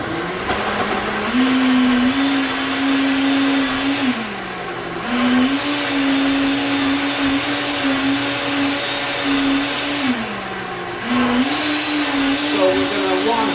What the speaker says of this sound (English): then we're going to go to blending. This is going to get loud